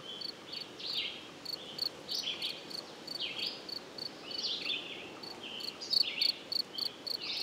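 A single cricket chirps in short repeated bursts about ten feet away, picked up by a parabolic microphone; the trills are fairly faint and mixed with other insect or frog calls over a steady outdoor hiss.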